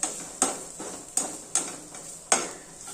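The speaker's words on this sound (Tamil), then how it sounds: "நல்லா வந்து ஒரு ரெண்டு நிமிஷம் வதக்கி விட்டுக்கலாம்" Spices sautéing in a pan for a vallarai leaf chutney, with about five sharp scrapes of a spatula against the pan at an even, unhurried rhythm over a faint sizzle, close and clear.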